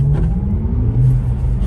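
A Porsche Taycan Turbo electric car pulls away under light throttle, giving a low, steady road rumble and motor hum that stays close and even for a brief moment.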